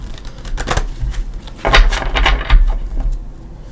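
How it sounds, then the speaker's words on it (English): Tarot cards being shuffled by hand, close and crisp, in several quick riffling bursts with short pauses between them and no talk. "let's go ahead and give everything a shuffle"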